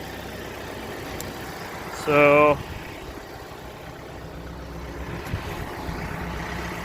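A tractor engine idles steadily at a trench-digging site, a low mechanical rumble running throughout beneath a short spoken word, with a brief loud tonal burst near the two-second mark.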